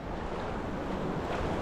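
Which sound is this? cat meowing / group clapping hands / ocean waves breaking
ocean waves breaking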